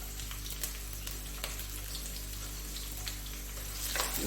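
Chopped onion, green chilies and ginger sizzling quietly in oil in a pan, a soft, steady frying hiss with a few faint clinks, heard alone.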